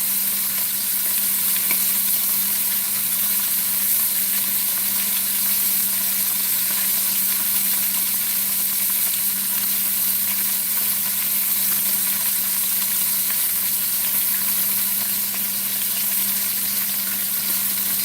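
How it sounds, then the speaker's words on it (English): Lamb shanks sear in a pan with a tablespoon of oil for osso buco, giving a loud, steady, close sizzle that runs unbroken with no one talking. "you're going to sear these lamb shanks"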